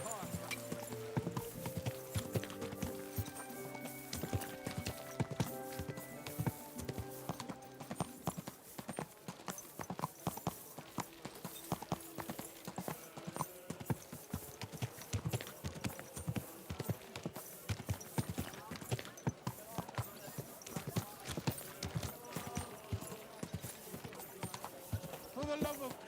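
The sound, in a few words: horse hooves clip-clop in video game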